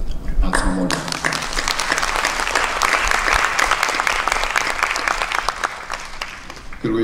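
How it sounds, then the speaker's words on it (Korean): A church gathering applauds a visiting men's pastors' choir and children's and youth groups. A sudden burst of dense clapping rises and sustains, loud and close, with some voices faintly underneath before it tapers. "우리 박수 한번 올려드립니다"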